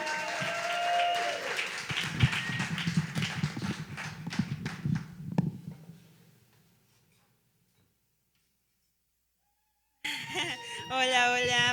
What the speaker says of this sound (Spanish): Pero un aplauso para Paula,